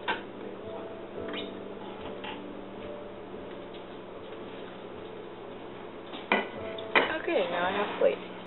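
A plate is fetched in a home kitchen while pancakes are being made in a small pan: a quiet room hum gives way to a few close clinks and clatters of dishware near the end.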